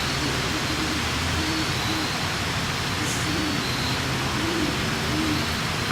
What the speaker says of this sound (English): These are early hoots. The owls are thinking about waking up.